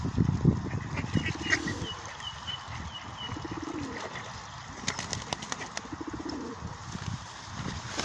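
Pigeons cooing outdoors among other waterfowl and gulls on a bad-weather day, with soft low coos repeating through the clip over steady wind and ambient noise, plus scattered higher bird calls.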